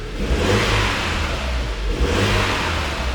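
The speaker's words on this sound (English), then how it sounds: "this one has got a lovely bit of turbo flutter" Renault Megane R.S. 265 hot hatch engine revving in a sport mode with traction control off, two strong rising revs close by with a gritty low drone and a hiss of turbo flutter between them.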